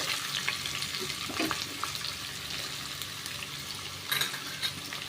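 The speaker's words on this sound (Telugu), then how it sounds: "ఇవి కొంచెం దోరగా వేపుకుందామండి" Sliced onions fry in hot oil until golden, giving a steady broad sizzle with light stirring scrapes and a brief louder burst near the end, no voices.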